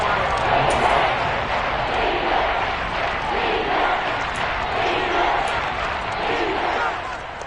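Kansas City home crowd in a football video game roaring before third and goal, a dense, loud stadium roar that surges and holds steady without a break.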